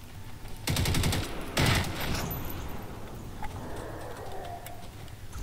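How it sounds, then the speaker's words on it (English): Cannons fire in the video game Landfall, two sharp booming volleys with rattling tails, followed by fainter scattered game effects and a low background hum. "The sound from these cannon things is so sick"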